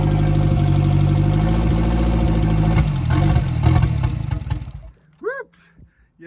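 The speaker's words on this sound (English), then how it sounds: "the engine's quiet, it's not tapping" A Ford Fiesta RS Turbo engine idles steadily and loudly up close without tapping, with a slight rev near the middle, then cuts off, leaving brief talking afterward.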